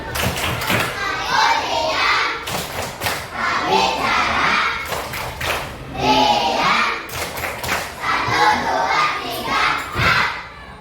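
A classroom of pupils performs the 'tepuk diam' clapping routine, with bursts of rhythmic group claps and thumps alternating with children chanting in unison, repeating in waves across the room.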